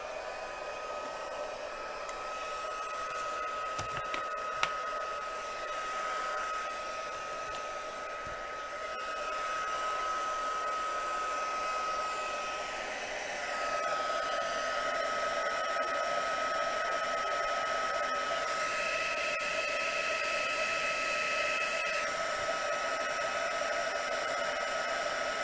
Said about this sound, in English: heat gun. We're going to put that on setting 2 to melt that embossing powder